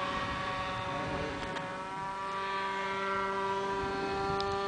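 A model aircraft's electric propeller motor runs at a steady high pitch with a constant whine and strong harmonic hum, held at an even, fairly close level throughout, during a university aero design team's first flight test.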